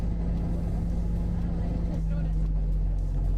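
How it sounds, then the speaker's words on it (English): Steady low engine drone and road rumble inside a moving bus, a constant loud hum filling the whole stretch with no break. "Are buses always that loud, says Chris Mills?"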